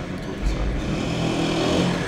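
A motorcycle passes by at an outdoor festival setting, a brief steady engine rush rising and fading over about two seconds amid background noise.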